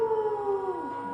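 A voice imitates dogs howling at night, a single long, loud wavering howl that slides downward in pitch toward the end, heard alone.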